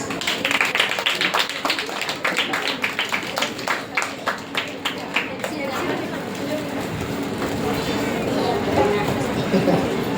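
Audience clapping at a Sunday school program in a prayer hall, a burst of quick, sharp claps in the first half that fades into a murmur of crowd noise and talk.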